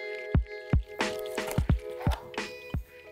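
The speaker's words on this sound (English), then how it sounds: "You should be really gentle just to dab the water." Water drips steadily from parboiled tofu as it is gently dabbed, with about eight close, distinct drops and soft squishes falling at an uneven rhythm.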